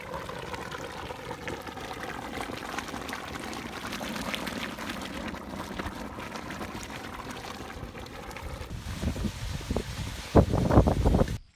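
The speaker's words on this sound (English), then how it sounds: "Is it bubbling? Yeah, bubbling's happening." Quicklime fizzes and bubbles steadily in water, soft and continuous, swelling into louder gurgling pops near the end.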